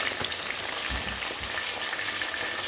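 Frozen snacks sizzle and crackle in hot oil in a home kitchen, a soft, steady bubbling hiss with scattered pops, fairly quiet and with no talking.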